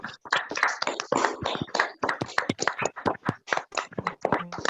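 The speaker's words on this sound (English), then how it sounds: "I need unstoppable claps." An audience gives sustained, dense applause at a live talk event honoring a guest speaker. The clapping is loud and continuous, with no speech over it.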